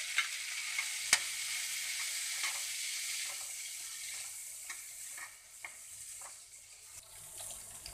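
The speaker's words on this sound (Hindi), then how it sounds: "भुनने लगा है, इसी के साथ हम इसमें आलू डाल देंगे।" Potatoes and cumin frying in hot oil in a pan, a steady bright sizzle with occasional scrapes and clicks from stirring, close and with no voices.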